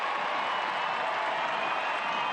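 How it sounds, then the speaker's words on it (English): Stadium crowd at Al Lang Stadium cheering as a penalty kick is set up in a Tampa Bay Rowdies soccer match, a steady, dense wash of applause and roar that holds evenly throughout. "the crowd comes alive here at Al Lang Stadium"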